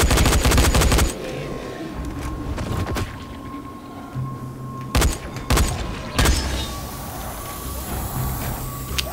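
Automatic gunfire in the video game Dying Light rattles loudly at the start, followed by several separate sharp shots over a low, steady game background.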